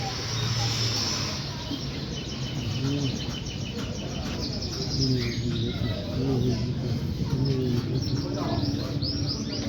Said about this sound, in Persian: اینجا هم کبوتره